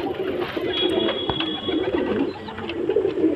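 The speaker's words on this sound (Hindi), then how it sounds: "पंजाबी मलवई ब्रीड की कबूतरी है, प्योर पंजाबन कबूतरी है।" Soft, low cooing from a Punjabi Malwai breed pigeon hen repeats under a steady wash of background noise, with a few brief higher clicks and rustles.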